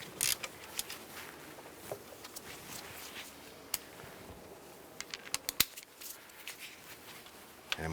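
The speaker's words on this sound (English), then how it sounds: "I'm going to go ahead and snug down this back bolt" Bolt on the back of an alternator on a 2005-2007 Jeep Liberty being snugged down with a hand tool, giving faint scattered clicks and ratchet-like ticks over low shop background, with a sharper click burst near the end.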